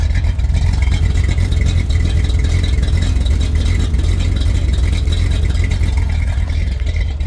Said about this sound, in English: get you a little exhaust note here.